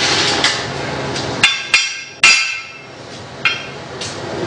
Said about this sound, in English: So I need to tap that with a hammer.